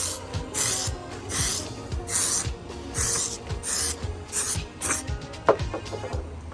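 Close, sharp hissing bursts of aerosol spray onto a Honda CR-V RD1 cabin air filter come in a quick series of about six puffs, with faint clicks and rubbing noises between them and no talking.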